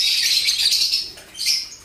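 Birds chirp and twitter in a dense, high-pitched chatter, briefly dipping before another burst of calls, close by and without voices.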